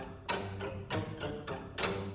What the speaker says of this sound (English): they're gonna hit with the wood of the bow on top of the string